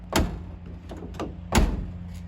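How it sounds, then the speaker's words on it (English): A door on a Ford Mondeo V6 touring race car is shut in a pit garage, giving two sharp, close thuds about a second apart over a low steady hum. "So when you close the door"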